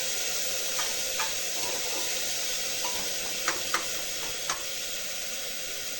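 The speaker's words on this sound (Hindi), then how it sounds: "और ये डाल दिया मैंने लहसुन, प्याज, ये हो रहा मेरा फ्राई" Garlic and onion frying in a pan, an even, close hiss of sizzling oil with a few faint crackles and light taps.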